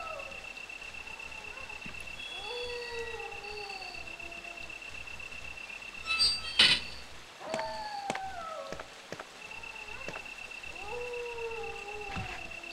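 Dogs in the Resident Evil video game let out long wavering howls that slide up and down in pitch and overlap one another, over a faint steady hum and broken by a few sharp clatters midway.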